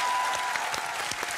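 A studio audience on a dance show gives a brief burst of dense applause with scattered sharper claps. A faint tone sounds early on.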